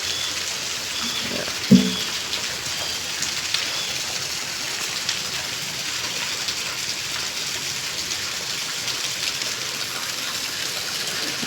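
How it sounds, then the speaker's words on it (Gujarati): Heavy rain pours down in a dense, steady hiss, with a single brief knock early on. "જબરજસ્ત વરસાદ પડી ગયો"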